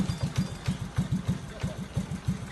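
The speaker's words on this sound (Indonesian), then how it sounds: "Mau dengar kan mesinnya kayak gimana?" An old Super Cup 800 motorcycle engine runs at idle nearby, a steady rapid chugging beat of even low pulses.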